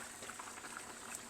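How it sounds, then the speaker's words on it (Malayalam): Bitter gourd and mango curry bubbles vigorously in an uncovered pot on a medium flame, a steady close-up boiling and popping with no speech. "നല്ലപോലെ തിളയ്ക്കുന്നുണ്ട്."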